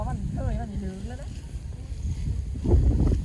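Wind blows across open rice fields at harvest time, a steady low rumble of gusts against the microphone beneath a person talking throughout.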